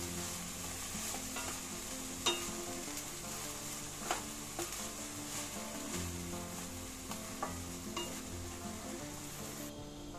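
Dhekia fern greens with chickpeas fry in a pan and are stirred, giving a steady close sizzle with scattered scraping clicks from the spatula and no talk.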